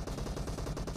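Rapid automatic M416 rifle fire in the battle royale game PUBG, a dense, loud burst of overlapping shots running through the whole second without pause.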